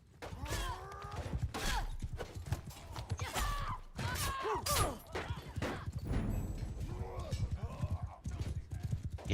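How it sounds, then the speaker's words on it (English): Horse hooves clattering in a video game match, rapid clip-clop beats mixed with clashing effects and a neigh while players talk over it. "He has faster horse."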